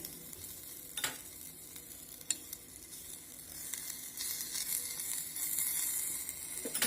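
Hot butter, oil or ghee poured over dal for a tandoori dal tadka, giving a soft, steady sizzle with a few faint clinks.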